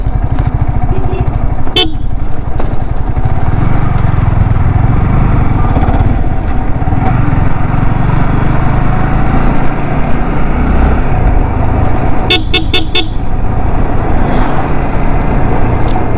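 A group of motorcycles rolls past on a hill road, a loud continuous engine drone with rising and fading passes and a few short horn toots.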